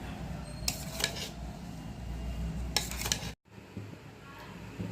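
A spoon clinks twice against a pot while raw mango pickle is mixed, over a low background rumble, with a brief dropout and quieter stirring afterward.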